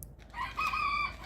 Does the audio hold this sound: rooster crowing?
yes